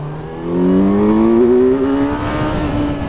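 A 2024 Kawasaki Z900 motorcycle engine revs hard in first gear during a power wheelie, a loud rising whine that climbs steadily, then eases slightly, heard up close with no talk.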